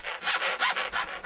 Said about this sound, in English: we'll just file that back again, get the sharp edges off it